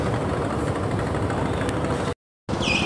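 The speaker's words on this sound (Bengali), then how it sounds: "বিপুল সংখ্যক যাত্রী নিয়ে বরিশাল ঘাটে আসছে অ্যাডভেঞ্চার এক লঞ্চ।" Passenger launch Adventure-1, crowded with passengers, arriving at Barishal ghat, its engine a steady broadband rumble and drone that runs continuously, briefly cut off before resuming.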